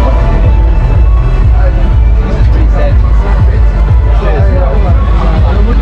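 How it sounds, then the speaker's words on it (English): Dense crowd hubbub at the Comrades Marathon finish line, loud and continuous, with many voices babbling and cheering near the Friendship Pavilion and a speaking voice mixed into the roar. "There's the Friendship Pavilion up there, and then these amazing crowds this time."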